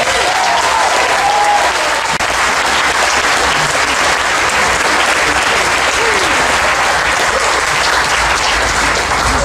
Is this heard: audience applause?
yes